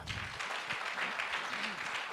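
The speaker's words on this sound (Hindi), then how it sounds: "तो चाहूँगा जोरदार तालियां हो जाएं उनके लिए एक बार" Applause from an audience at a business meeting, steady dense clapping throughout, faint and somewhat distant.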